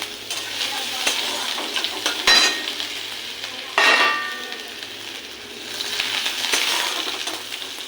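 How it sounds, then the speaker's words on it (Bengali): Dry red chili, cumin seeds and grated ginger hitting hot oil in a pan, a loud crackling sizzle with sharp bursts as each ingredient drops in, then steady frying with occasional stirring clinks. "গরম হয়ে গেছে, দিয়ে দেবো একটা শুকনো লঙ্কা, দেবো একটু জিরে ফোড়ন, দেবো আদা গ্রেট করা"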